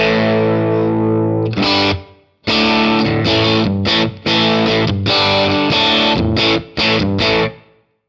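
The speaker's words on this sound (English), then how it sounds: "I'll let you hear the tone with the reverb off on my PRS Custom 24. Then I will kick the reverb in" A PRS Custom 24 electric guitar plays through a York Audio AC15 cabinet with a distorted, driven tone: a sustained chord, then a rhythmic run of chopped, punchy chords with short gaps, loud and close.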